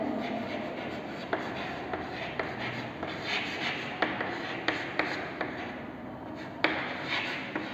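Pen or pencil writing on paper during a primary school science lesson: soft continuous scratching with a few sharp taps of the tip, close and quiet, with no voices.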